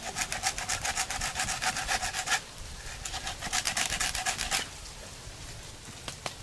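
A hand saw rasps through a coconut tree trunk in fast, steady back-and-forth strokes, a pause near the middle, then a second burst of sawing before it stops; close and loud, with no voices.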